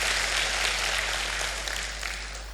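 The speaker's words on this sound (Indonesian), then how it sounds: "Berikan tepuk tangan buat Tuhan Yesus." Church congregation applause during an Easter sermon, a dense, even wash of many hands clapping, moderately quiet, with a low hum beneath.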